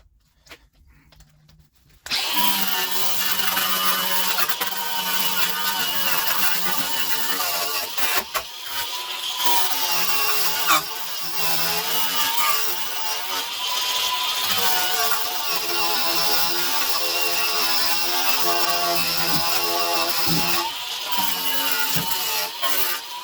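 An aggressive grinding wheel shredding rusty old floor pan metal on a Jeep YJ restoration, a loud continuous harsh whine and rasp that starts after a brief quiet moment and holds steady with small shifts in pitch.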